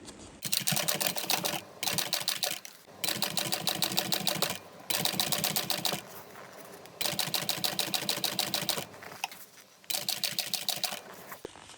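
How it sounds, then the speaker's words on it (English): A sewing machine runs in bursts of rapid stitching along a seam at full seam allowance, with short pauses between runs, close and loud, no talking. "I'm going to come in and do my second one of stitching at my full seam allowance"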